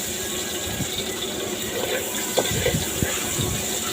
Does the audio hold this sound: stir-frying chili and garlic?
yes